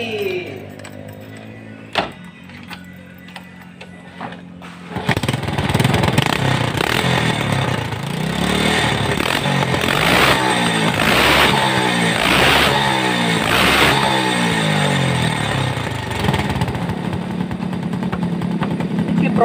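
Old Yamaha Vega R motorcycle with a new battery and regulator, a few clicks and a start attempt, then the engine catches and runs with a steady, close, rattly idle and rhythmic revving, a voice talking over it.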